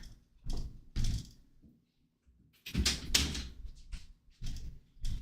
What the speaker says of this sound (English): Hold on, I gotta close the door.